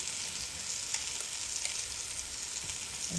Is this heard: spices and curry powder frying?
yes